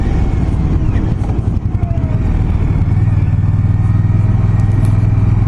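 An Indian Scout Bobber motorcycle engine running while being ridden, a loud steady rumble with wind noise, holding an even drone throughout.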